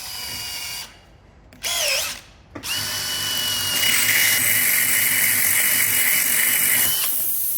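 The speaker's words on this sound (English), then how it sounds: "I'm going to drill a hole in the tyre with a reasonable sized drill bit" A power drill with a fairly large bit bores a hole into a tyre, whining steadily and loudly after a couple of short starting bursts, continuing close up with no talk.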